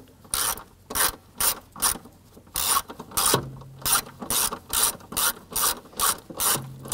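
A hand ratchet clicks in quick rhythmic bursts, close and clear with no talking, while backing out the screws on the lower knee panel of a 1993–1997 Ford Ranger.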